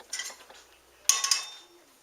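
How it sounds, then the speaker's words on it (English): Cooked cornbread scooped out of a pan with a metal utensil for cornbread dressing, giving two short bursts of scraping and clinking, close and fairly quiet. "Just scoop it out like this, because you're going to crumble it up anyway."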